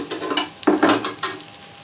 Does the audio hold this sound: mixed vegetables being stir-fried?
yes